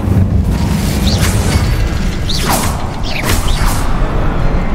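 A fiery Incendio spell blast in the Hogwarts Legacy video game, a dense continuous rumbling roar with bursts of crackling and whooshing flares, loud and close throughout.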